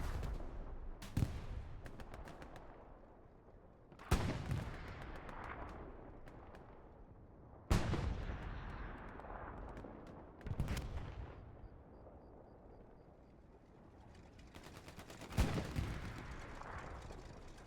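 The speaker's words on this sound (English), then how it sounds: "We hear the explosion." Explosions and gunfire in the WWII shooter game Hell Let Loose on Juno Beach, with about five loud, sharp blasts spaced several seconds apart, each followed by a rumbling decay over continuous battle noise.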